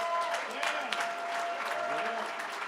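A crowd at an HBCU all-stars basketball awards celebration gives a sustained round of applause for the top players, steady and even throughout, with a few voices faintly mixed in.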